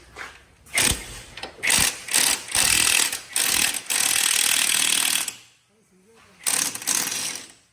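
A metal rolling shop shutter is pulled down with loud, close bursts of rattling clatter over several seconds. It goes briefly quiet, then a final stretch of metallic rattling follows.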